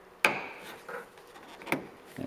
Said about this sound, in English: we have to pop this cover off